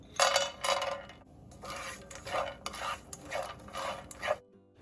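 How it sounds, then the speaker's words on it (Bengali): Lentil dumplings (bori) frying in mustard oil in a pan, with a run of crisp, bubbling sizzle bursts and light metallic scraping of a utensil against the pan, close and fairly steady until it stops abruptly near the end. "কুমড়োতে আমি কিছু বড়ি দেব, তো তার জন্য প্রথমে আমি কয়েকটা বড়ি আগে ভেজে নিচ্ছি"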